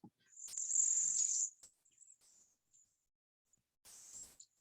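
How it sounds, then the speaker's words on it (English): Cedar waxwing flock calling beside a stream: thin, high, buzzy trills, one long run of overlapping calls followed by a few faint short notes and a final brief burst, moderately close. "This is what cedar waxwings would sound like."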